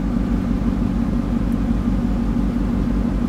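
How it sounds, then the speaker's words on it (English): Aston Martin V8 Vantage with a 4.7 liter V8 and six-speed manual, idling with a steady, deep low rumble from its exhaust, close by and continuous with no talking. "Has an absolutely beautiful exhaust note."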